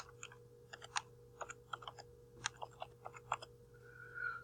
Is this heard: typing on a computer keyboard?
yes